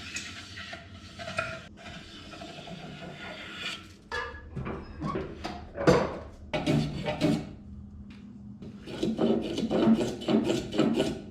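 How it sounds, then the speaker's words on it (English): A tool works along the edges of wooden bench parts, cutting heavy chamfers in cheap lumber. The scraping, rasping strokes come in irregular bursts, with short pauses between passes, close by and fairly quiet. "Just before the dry fit, I go ahead and chamfer a pretty heavy chamfer on all the edges."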